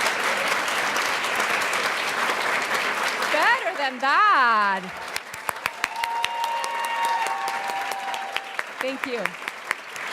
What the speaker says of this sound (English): let's have a great round of applause,